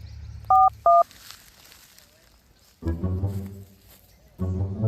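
Two short, loud keypad tones as a phone number is dialed at a village home in a Gujarati comedy sketch, followed by a quiet pause and then people talking.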